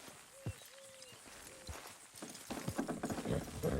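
Horse hooves clip-clop in a video game, with whistle-like tones early on, then denser, louder hoofbeats building toward the end as the horses approach.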